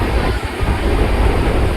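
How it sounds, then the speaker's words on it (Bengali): A passenger train from Howrah to Bhubaneswar rumbles along the rails at speed, a steady close low roar with faint rhythmic wheel clatter, heard from inside the carriage. "ট্রেন ছেড়ে দিয়েছে হাওড়া টু ভুবনেশ্বর"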